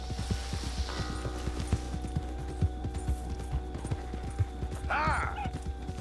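Horse hooves clip-clop steadily on a trail in Red Dead Redemption 2, a quick irregular patter of close, moderate hoofbeats running under game ambience, with a brief whinny near the end.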